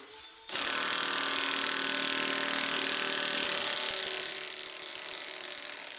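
A ratchet socket wrench clicks rapidly and loudly without a break as it drives bolts on a DIY log deck built from legs tied with 2x6 boards, fading slightly toward the end.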